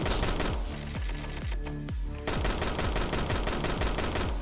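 Rapid gunfire and repeated explosions from a boss fight in an indie video game, a dense continuous barrage of shots and booms with a brief thinning in the middle, loud and unbroken.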